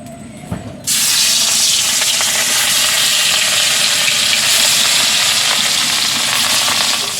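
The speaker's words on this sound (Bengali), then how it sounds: "তেল গরম হয়ে গেছে, মাছ দিয়ে দিই।" Loud, steady frying sizzle of rohu fish in hot mustard oil erupts after a brief quiet start and continues evenly, a dense hiss of hot oil close by.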